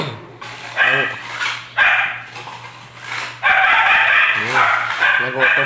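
A hungry dog barks repeatedly at close range, loud sharp bursts with short gaps, joined by whimpering yips, near a site where red cement is being applied.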